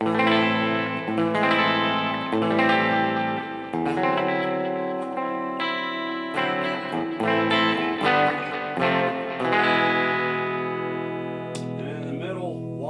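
An electric guitar with Lollar Imperial pickups, tone knob rolled back to about 7, strums and picks chords and single notes with a darker, softened tone, steady and close, ending on a ringing chord.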